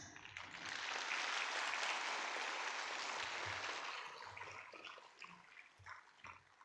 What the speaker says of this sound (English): May we have another round of applause?